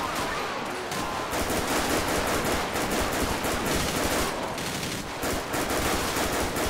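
Sustained, dense gunfire in GTA 5 during a police shootout, a continuous loud crackle of rapid shots with only brief dips, filling the whole stretch without a break.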